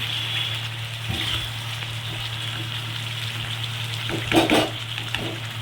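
A mixture with milk added is stirred in a frying pan, making a steady low sizzle beneath a constant background hum, with a brief louder burst of scraping near the end.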